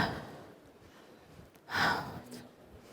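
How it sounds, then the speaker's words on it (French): A single audible breath, mostly a faint airy exhale with a sharper gasp-like burst near the end, taken during a pelvic floor rehabilitation exercise with self-lengthening posture, in a quiet room with no talk. "Vous inspirez et vous soufflez, vous remontez."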